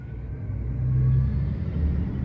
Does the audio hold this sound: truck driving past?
yes